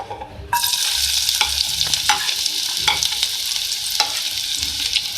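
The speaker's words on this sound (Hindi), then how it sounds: "सबसे पहले मैंने ऑयल लिया है, इसमें मैं एक मीडियम साइज़ की प्याज ऐड कर रही हूँ" Oil crackles and hisses loudly as a medium-sized onion hits the pan, settling into a steady sizzle with occasional stirring clicks.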